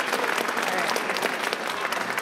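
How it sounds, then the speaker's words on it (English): A crowd at a Lutheran church vacation Bible school program gives a brief, dense round of applause, steady clapping filling the room for a couple of seconds. "Yes, give a round of applause for that."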